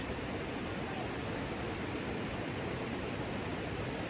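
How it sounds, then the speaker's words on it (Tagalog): A small waterfall gives off a steady, dense broadband rush of falling water, constant and unbroken throughout with no voices. "Meron pa palang isang falls dito"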